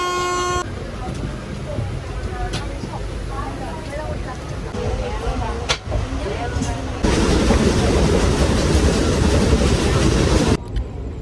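A train approaches Shoranur railway station, sounding a horn at the start as the rail rumble builds and swells louder near the end, with people talking on the platform throughout.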